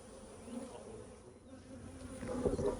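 Honey bees buzzing around beehive boxes outdoors, a faint steady hum that swells somewhat louder near the end, with no talking.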